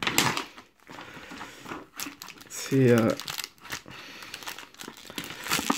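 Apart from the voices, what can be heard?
opening plastic-wrapped trading card tripack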